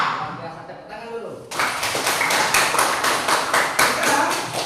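A class of students claps together in a coding lesson, starting after a moment of talk and then breaking into rhythmic, evenly spaced group claps, loud and close, repeating steadily for about three seconds.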